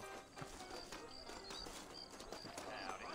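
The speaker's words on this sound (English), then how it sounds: "You ain't gonna find sturdier horses than these in all of New Austin" Horse hooves clip-clop steadily in a western video game set in New Austin, a busy continuous patter of hoofbeats under ambient game sound and faint voices.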